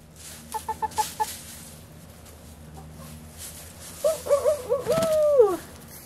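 Backyard chickens cluck in a quick run of short calls, then after a pause a rooster gives a louder stuttering series of clucks ending in a drawn-out call, nearby and clear with no talking.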